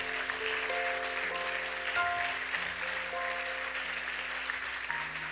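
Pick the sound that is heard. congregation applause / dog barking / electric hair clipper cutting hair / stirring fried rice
congregation applause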